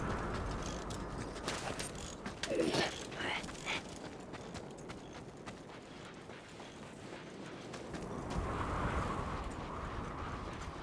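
Faint mechanical clicking and ratcheting from a socket wrench in the Mad Max video game on PC, scattered ticks over a steady low rumble with a brief louder clatter.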